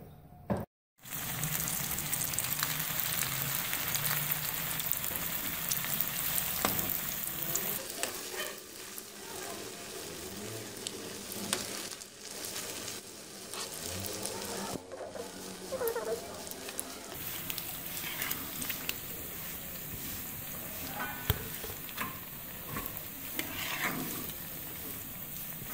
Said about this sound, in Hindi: फिर आपने इनको तलना है।